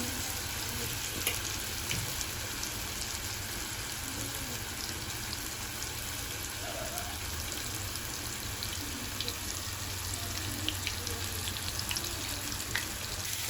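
About half a kilo of marinated chicken fries in a pan with a dense, continuous sizzle that stays loud and even throughout, with only faint ticks and crackles on top.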